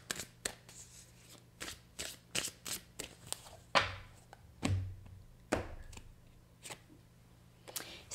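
Romance Angels oracle cards being shuffled and drawn, a quick series of crisp riffling flutters and slaps in an irregular rhythm, close and fairly quiet, with no talking.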